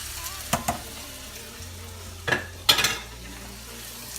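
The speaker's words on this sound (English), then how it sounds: "You're going to add a little bit of your Alfredo sauce" A pan of Cajun chicken and vegetables in Alfredo sauce sizzles quietly and steadily, broken by a few sharp clinks and scrapes of a utensil against the pan, with no voices.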